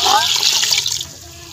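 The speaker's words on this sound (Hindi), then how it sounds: "और 1 किलो हम डालेंगे इसमें पानी।" A short rush of water, about 1 kilogram, pours and splashes into a pressure cooker for mutton karahi, loud at first and then tapering off.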